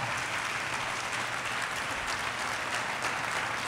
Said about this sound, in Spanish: Vamos, levante ese aplauso para el Señor.